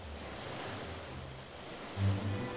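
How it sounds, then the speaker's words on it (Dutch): Rough, wild water in a cartoon story, a steady rushing wash of waves and surf with a low swell rising near the end, no voices over it. "Plotseling wordt het water erg wild."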